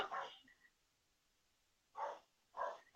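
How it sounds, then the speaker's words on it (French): A neighbour's dog barks in three short muffled bursts, one and then a pause before two more close together, faint and distant as if through a wall in a hot apartment. "c'est le chien du voisin."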